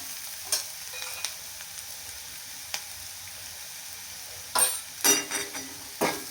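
Sliced onion with a pinch of turmeric, cooked to golden in oil in a pan, gives a faint steady sizzle interrupted by a few louder, scraping stirring strokes near the end, with no talking.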